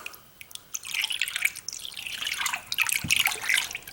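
Thick, oily Qualichem machine coolant dripping and trickling into a container, a close, wet patter of irregular drips that builds and runs steadily with a few heavier splashes.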